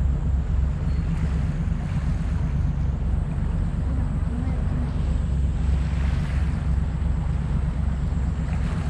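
A Japan Coast Guard boat runs on the sea off a harbor breakwater in Shimotsui, Okayama, its engine a constant low drone mixed with wind buffeting and wave wash, steady and fairly loud throughout.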